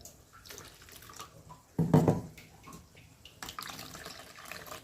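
Water poured into a pan of tomato rasam while cooking, a short splashing pour of about a second rising loud and then fading into quieter kitchen sounds.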